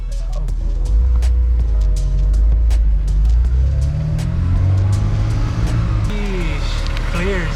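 A Honda S2000 on new wheels revs hard while drifting, the engine note rising and falling loudly with tire noise, and people talk over it.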